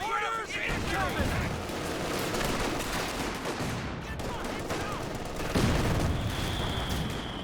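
Machine gun and battle fire in Company of Heroes 2, a 1v1 match: sustained crackling bursts and booms rolling on throughout, mixed with a commentator's voice.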